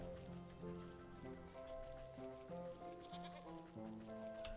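A sheep in the Wytchwood video game bleats in short, repeated wavering calls over soft, gentle background music and light pattering ambience, with no speech.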